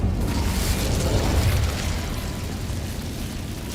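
Incendio fire spell cast in Hogwarts Legacy, a loud roaring whoosh of flame that swells over the first second and a half, then settles into a steady rumbling burn with no talking.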